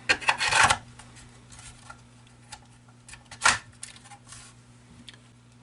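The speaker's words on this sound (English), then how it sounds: "I'm going to return the trigger pack." Trigger pack of an FN PS90 5.7×28mm carbine sliding back into place, a loud rasping scrape followed a few seconds later by a shorter click and rub, with faint handling noise in between.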